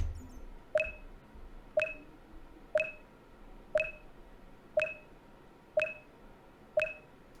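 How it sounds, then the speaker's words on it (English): Seven identical electronic beeps in the video game Enigmatica 6 sound at an even pace, about one per second, crisp and clean against a quiet background. "I think the beeps are the number of books that it detected"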